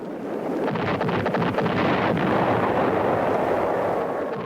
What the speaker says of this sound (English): B-52s launched 45 arc-light strikes